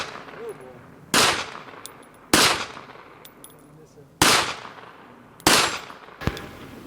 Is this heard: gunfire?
yes